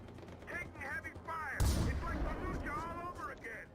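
Rifle fire in the video game Far Cry 4 sounds as one sudden, heavy blast with a rumbling tail. Someone talks over the game audio before and after the shot.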